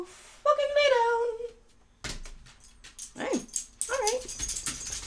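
A dog lets out a drawn-out whining yip, then several shorter whimpers and yelps in broken bursts, close and fairly loud, with brief rustling between them.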